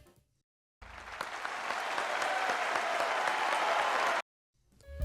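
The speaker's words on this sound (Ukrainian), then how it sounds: "Оплески. Оплески." Sustained applause from a crowd, steady and dense clapping lasting a few seconds before cutting off abruptly.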